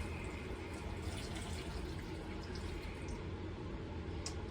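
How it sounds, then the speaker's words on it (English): A steady, continuous stream of water pours into a blender, close and even throughout. "pour it into your blender"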